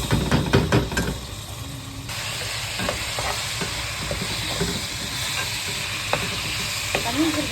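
Kilo of washed rice stirred through sugar-darkened fried onions in a pot, a steady sizzle with scraping stirs and a hiss of steam, close and moderately loud with no talk.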